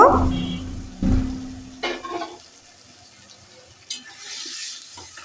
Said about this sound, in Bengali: এখন আমি শিম আর আলুটা দিয়ে দেব